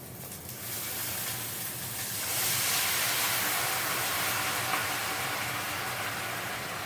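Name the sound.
boiling stock added to rice pilaf, sizzling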